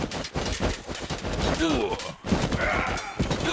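Explosions and combat from the video game StickWar: Legacy fire in a dense, continuous barrage of booms and crackling bursts with no pause over a few seconds.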